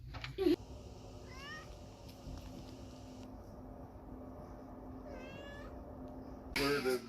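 A kitty cat meows up close, with a short meow at the start and another at the end over a quiet background hum and a faint engine-like drone, with a few brief rising tones in between.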